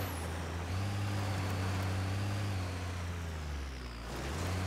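Heavy vehicle engine in Ghost Recon Wildlands, a steady loud low rumble that holds throughout with a slight shift in pitch near the end, no voices over it.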